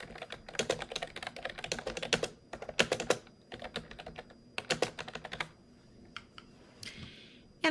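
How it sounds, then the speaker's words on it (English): Typing on a computer keyboard, with close, crisp key clicks arriving in quick bursts separated by short pauses, no voices. "And I can come in here and type"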